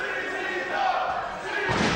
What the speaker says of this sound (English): the crowd chanting, appreciating Ruckus with the bomb